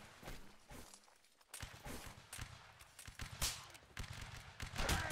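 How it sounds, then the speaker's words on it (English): Muskets fire in scattered cracks and small volleys during a Napoleonic Wars line battle video game. The shots are mostly distant and mix with shuffling movement and background noise across the whole stretch. "Dean, shoot it."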